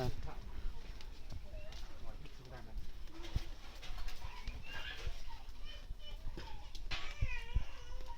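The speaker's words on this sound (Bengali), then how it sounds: "এই একটা ঘুঘু বসে আছে" An outdoor dove perched nearby coos softly a few times amid a busy background of children playing and people talking.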